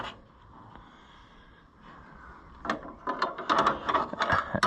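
Wrench worked on seat bolts of a John Deere 2020 tractor, quiet at first, then a close run of sharp metallic clicks and ratcheting scrapes in uneven bursts, growing louder toward the end, no talk.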